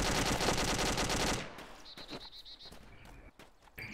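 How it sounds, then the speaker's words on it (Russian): A sustained, loud burst of rapid machine gun fire from the ArmA 2 ACE video game rattles for over a second, then cuts to quieter scattered shots, clicks and faint ambient noise. "Как из пулемета стреляет."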